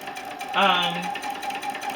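Sewing machine chain piecing quilt rows, a single short burst of stitching lasting about half a second at moderate loudness, with talk going on around it.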